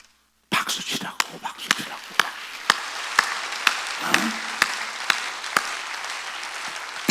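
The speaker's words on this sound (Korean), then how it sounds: "박수치라고" A church congregation claps during a Sunday worship service, starting abruptly and settling into a steady rhythmic beat of sharp, evenly spaced claps that carries on for several seconds, with a brief murmur partway through.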